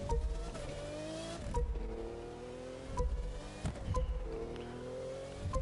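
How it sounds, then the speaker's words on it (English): F1 car in The Crew 2 video game accelerating hard through a slalom track, its high-pitched engine climbing in repeated rising sweeps with sharp gear-change dips about every one and a half seconds, loud and continuous. "This F1 car obviously is very fast. The acceleration on this is crazy."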